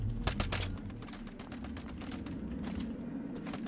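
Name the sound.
flashbangs exploding in the video game Once Human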